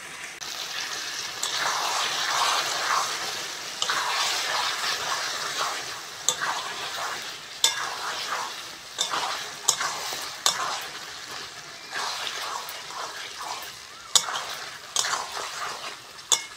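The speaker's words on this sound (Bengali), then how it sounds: "মশলার সঙ্গে চিকেনটা ভালো করে কষবো।" Chicken stir-fried with cooked-down masala in a pan for matar chicken curry, a continuous sizzle broken by repeated scraping and clanking strokes of a spatula, no voices.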